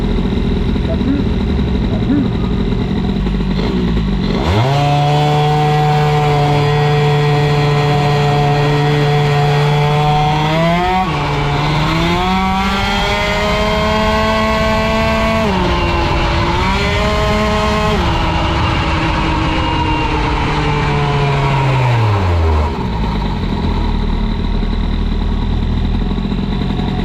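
Scooter engine fitted with a Metrakit 70 exhaust pipe, a loud buzzing two-stroke note that rises from idle into long sustained revs with dips and surges, then drops back to a rough idle.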